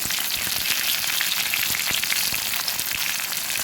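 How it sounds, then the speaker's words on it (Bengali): A bay leaf with cinnamon, cardamom and cloves fry in hot oil, giving a continuous bright sizzle and crackle, close and even, with no talking. "গোটা গরম মশলা এখানে দারচিনি এলাচ এবং লবঙ্গ আছে সব কিছু একসঙ্গে ভেজে নেব"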